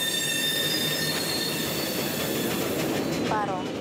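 Freight train wagons rolling past at close range in Mexico, metal wheels squealing loudly and continuously over a heavy rumbling roar, with faint rhythmic clatter beneath.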